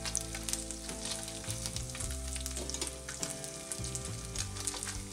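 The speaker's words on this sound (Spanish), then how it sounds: "Se están friendo." Rice blood sausage (morcilla de arroz) fries in a pan with a steady, close sizzle and crackle, while tonal background music plays underneath.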